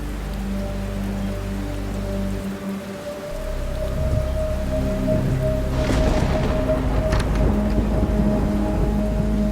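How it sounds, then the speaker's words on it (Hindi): Steady, heavy rain pours down at night, a constant dense hiss with some louder splashing and spattering toward the end, no voices. "बिल्लू, इस बारिश में क्या हो गया अभी?"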